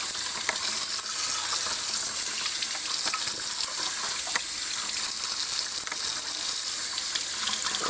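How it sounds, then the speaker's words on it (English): Running water rushes steadily over cut-up rabbit meat in a sink, a constant close hiss with occasional splashes and faint handling sounds. "now we just want to wash him up a little bit. Get everything nice and clean."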